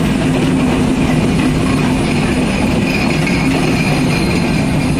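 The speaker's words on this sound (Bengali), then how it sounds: "আসছে রাজশাহী থেকে পদ্মা এক্সপ্রেস ট্রেনটি চলে আসলো উল্লাপাড়া স্টেশন।" The Padma Express from Rajshahi pulls into Ullapara railway station in Bangladesh, giving a loud, continuous rumble of wheels and carriages that fills the whole stretch without a break.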